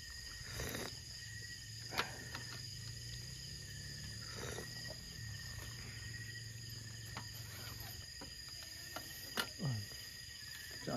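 Crickets chirp in a steady, continuous high trill at a moto-camping campsite, faint and distant, with a few soft clicks and rustles nearby and no talking.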